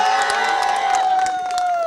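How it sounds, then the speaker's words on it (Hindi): A studio audience on an Indian TV talk show bursts into loud, sustained cheering and applause, with whoops and crowd noise holding steady for the full two seconds and no speech over it. "तालियां हो जाए इनके लिए।"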